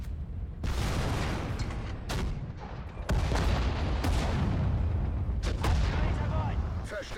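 Heavy bursts of gunfire and booming blasts hit repeatedly, loud and close, over a continuous battle din in the World War II strategy game Sudden Strike 4.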